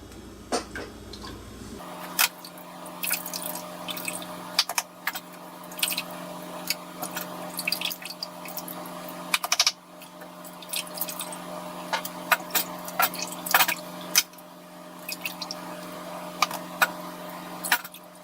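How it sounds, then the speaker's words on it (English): Brewed tea for a gallon of kombucha drips and trickles as tea bags are squeezed out by hand, with faint irregular drops, small squishes and ticks, close and quiet, with no talk. "I'm squeezing out any excess tea in the bags"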